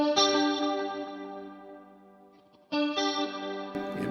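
Electric guitar played through a chorus effect with delay: a sustained shimmering chord rings out and fades, then a second chord is struck and sustains, clean and alone.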